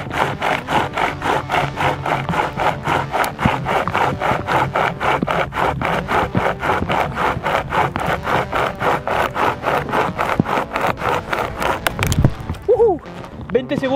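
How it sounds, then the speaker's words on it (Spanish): A petrol survival chainsaw cuts through wood in a fast, steady rasping run with rapid regular pulses, loud and close, ending abruptly near the end as the cut finishes and the engine drops away. "¡Vamos con la motosierra!"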